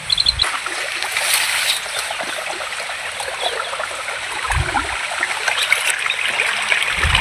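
Irrigation water flows steadily in a shallow field channel with a continuous rushing trickle and occasional splashes, close by and without voices.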